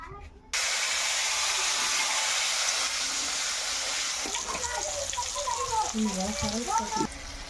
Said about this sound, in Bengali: এখন ভেজে নিব আলু